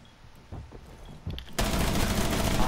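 Rapid gunfire shooting through a wall in a tactical shooter game, a sustained loud burst that follows a couple of sharper single reports, close and dense with no talking.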